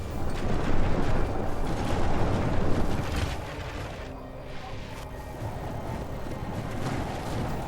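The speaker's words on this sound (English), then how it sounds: "the catapult is doing its thing already, look at that" Catapult bombardment in the Medieval II Total War battle game, a dense rumbling barrage of impacts and creaking mechanisms with battlefield noise, loud at first and easing off into a steady background roar.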